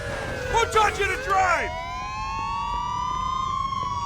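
Police car siren in the video game Mafia II, a wailing tone sweeping up and down alongside bursts of voices early on, then settling into steady, sustained siren tones that carry on alone.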